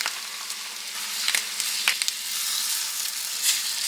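Eggs sizzle in a hot pan with onions and ham, a steady bright frying hiss with small crackles and pops, close and constant with no talk.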